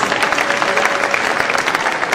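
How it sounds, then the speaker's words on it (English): Dense, loud clapping from an audience at a Kenya Film Commission awards event, saluting a first runner-up in a steady crowd patter that holds throughout with no talk on top. "A clap for her, please."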